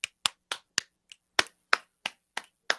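Ten sharp, evenly spaced hand claps from one person in quick succession, crisp and close with brief decay between each, no talking.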